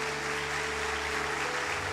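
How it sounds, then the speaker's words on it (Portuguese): A church congregation applauds during a service, a continuous even wash of many clapping hands over a low steady hum, with no break or change across the short stretch. "Vamos aplaudir o Senhor Jesus pelas vidas."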